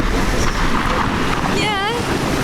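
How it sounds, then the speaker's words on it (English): Strong wind gust and waves buffeting a racing yacht out on open water: a loud, steady roar of wind and surf throughout, with a brief wavering tonal whine near the end. "this gust is now hitting us"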